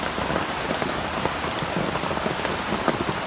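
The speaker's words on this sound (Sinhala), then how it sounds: "පට්ටම වැස්සක් වහින්නේ" Heavy rain pouring down outdoors during a storm at an open-air cooking spot, a dense, steady patter of drops drumming on surfaces, loud and constant with no voices.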